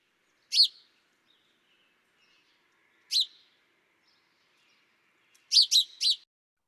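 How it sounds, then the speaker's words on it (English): A house sparrow gives clear, bright chirps, first single notes a few seconds apart, then a quick run of three, close and isolated against silence. "Next, I'm gonna play the house sparrow."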